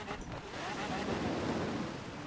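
A car ploughs through water in the racing game Forza Horizon 4, making a dense rushing, splashing roar like surf that swells and holds steady over the short stretch, loud and close.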